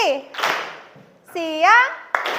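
A classroom of students claps together for a morning call-and-response cue, bursts of hand claps ringing out between a teacher's and children's chanted voices in a lively room.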